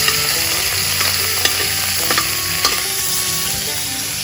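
Food frying in hot oil, a loud continuous crackling sizzle with scattered pops and stirring scrapes, steady and close with no talk.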